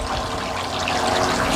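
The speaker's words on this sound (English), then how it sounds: "This sprays significantly more water down." Ryobi EZ Clean power cleaner on its rinse setting, spraying water in a steady, hissing rush, close and continuous with no speech.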